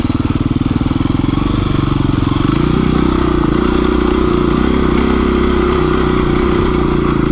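A KTM dirt bike with its throttle tamer adjusted for strong acceleration rides a trail, its engine loud and close with a rapid, pulsing clatter that climbs in pitch, and no speech over it.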